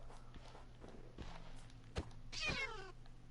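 A cat in Minecraft, with soft footstep thumps and a clear meow near the end, faint and alone.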